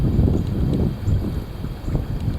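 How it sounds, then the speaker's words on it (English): Strong wind buffeting the microphone with a low, continuous roar that surges and eases in gusts, loud and close, with no other sounds standing out. "There you have it. The heavy wind."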